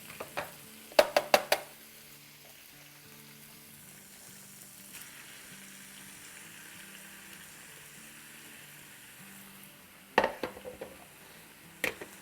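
Chicken pieces sizzle steadily in a hot pan with ginger paste, with bursts of utensil clatter near the start and again near the end over faint low background tones.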